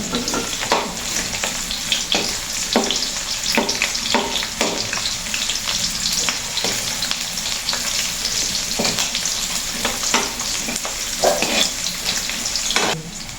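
Onion for pancit habhab fries in a pan, a constant close sizzle broken by a steady series of sharp clacks from a utensil stirring against the pan.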